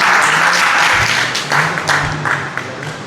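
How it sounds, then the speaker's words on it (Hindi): Audience at a religious gathering bursts into applause, a dense wash of clapping that is loudest at the start and thins gradually over a few seconds, with no speech over it. "कायबल, बहुत अच्छा। ताली बजाओ सब लोग।"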